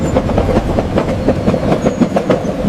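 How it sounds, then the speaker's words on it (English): Rhythmic clickety-clack of a train's wheels runs steadily through a calm bedtime lullaby, a regular pulse of soft rail clatter with no voices. "Dream Train is ready to take you to dreamland."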